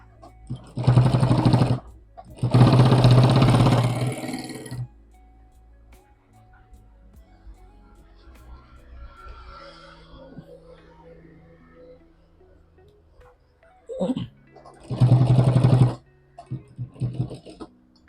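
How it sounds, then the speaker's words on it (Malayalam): A sewing machine stitches over a locked zip on a fabric bag, running in two steady bursts of several seconds each, a pause, then a third short burst. The whirring is close and clear, with no talking. "ഇത് ലോക്ക് ചെയ്തതിന് ശേഷം നേരത്തെ നമ്മൾ സ്റ്റിച്ച് ചെയ്തതുപോലെ തന്നെ ഇതിൻ്റെ മേലോട് സ്റ്റിച്ച് ചെയ്യാം."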